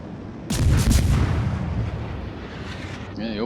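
A warship opening fire in a naval battle game, with a sudden loud booming salvo that rolls into a long rumble and then trails off, followed by a brief electronic chirp at the end.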